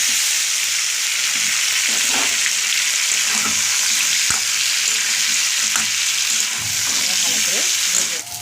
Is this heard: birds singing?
no